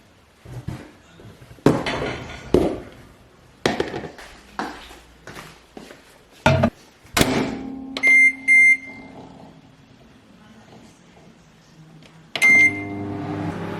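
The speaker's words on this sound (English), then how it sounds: "I still watch my oats in the microwave" Clinks and knocks of a bowl and spoon are followed by a microwave oven humming as it heats protein porridge oats, with several loud electronic beeps and a door clunk, close up and with no talking.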